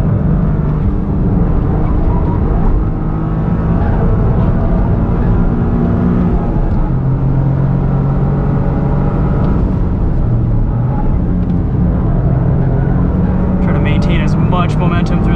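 A 2023 Toyota GR Corolla engine on a race track, loud and close, revving through short gears with repeated rises and dips in pitch, a driver talking over it at times and brief squeaks near the end.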